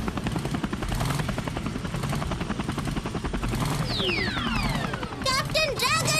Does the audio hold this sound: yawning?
no